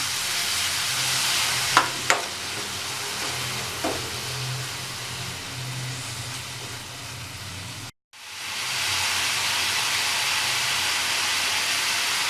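Onions and tomato stir-fried together for kothu parotta crackle in a pan with a steady, dense sizzle, broken by a few sharp spatula clinks early on and a brief dropout before the frying hiss returns just as strong.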